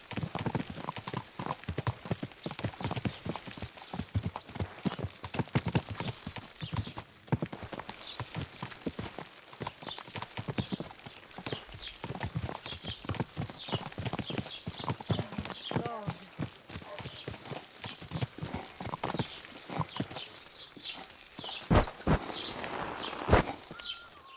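Continuous clip-clopping of horse hooves at a steady walking rhythm in the video game Kingdom Come: Deliverance 2, with a voice speaking over the steps.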